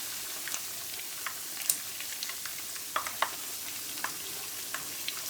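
Potato chapli kebabs made from raw potato fry in a pan, giving a steady faint sizzle with scattered small pops and crackles throughout.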